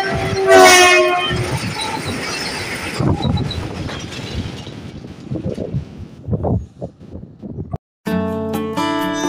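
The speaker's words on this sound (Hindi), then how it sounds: "इसी ट्रैक पे ट्रेन आने जा रही है और यहाँ पे हवा बहुत तेज चल रही है" A train passing on the railway track at Lalpul railway bridge in Shahjahanpur, in windy conditions: a loud rumble close by that fades away, and a sharp tonal horn that sounds near the end.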